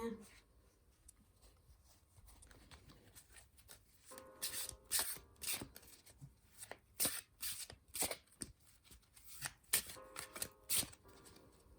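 Nicolas Conver Tarot de Marseille cards are shuffled by hand, quiet at first, then a rapid series of crisp riffling bursts in a loose rhythm, close and clear, while a person talks softly at times.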